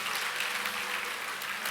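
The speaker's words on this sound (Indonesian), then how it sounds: "tepuk tanganlah bagi Tuhan Yesus" A congregation at a church service applauds for Jesus, dense, continuous clapping heard close and loud for under two seconds.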